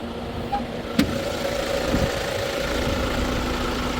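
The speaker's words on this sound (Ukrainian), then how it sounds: "І послухаємо двигун." A 2016 Hyundai Santa Fe with a 2.2 diesel engine idling under an open bonnet, a steady low rumble and hum with faint ticking, close and even throughout, no talking.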